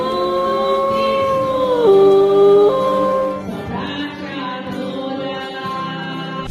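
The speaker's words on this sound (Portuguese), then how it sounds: "O Caramelo soltou o gogó no meio do hino, cantando como se estivesse liderando o coral da igreja" A dog howls loudly along with a church hymn during a worship service, its long wavering cries rising and falling over the congregation's singing and organ-like music.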